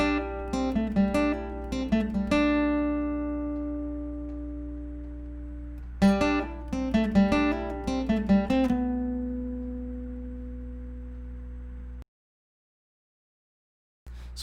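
An acoustic guitar plays the riff from a song, with two phrases of quick plucked notes that ring out between them before the clip falls silent near the end.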